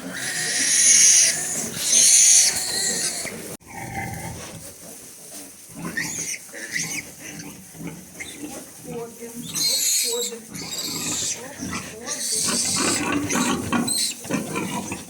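Newborn piglets squeal in shrill, overlapping cries at night, loudest near the start, while a person talks over the noisy farrowing pen.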